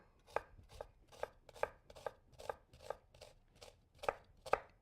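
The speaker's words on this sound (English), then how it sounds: "what we're gonna start to do is actually chop our onion" A knife chops an onion on a cutting board in a kitchen, about a dozen crisp, evenly spaced strokes in a steady rhythm, close and clear with no talking.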